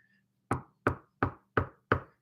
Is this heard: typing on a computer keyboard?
no